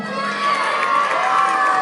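Audience of children cheering, shouting and clapping at a Turkish program, a loud, dense burst of young voices sustained throughout without letup.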